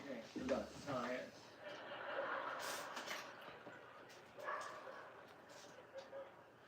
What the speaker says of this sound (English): There's a dog just barking outside, losing his mind.